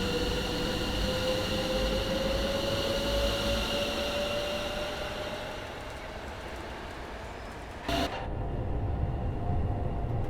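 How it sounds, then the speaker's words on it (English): A train passes by in Train Sim World 5 on the East Coast Main Line, a steady loud rumble with a rising tone that dips and swells near the end. "I want to listen to that train as it comes past"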